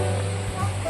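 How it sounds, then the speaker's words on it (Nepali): Jalbire waterfall in Chitwan, Nepal, pours as a steady broadband roar of falling water, close and continuous, with someone speaking over it throughout. "यता हेर्नुहोस् झरना कस्तो छ।"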